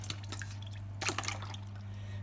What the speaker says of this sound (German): Zuerst werden unsere Feigen im kalten Wasser mal abgewaschen.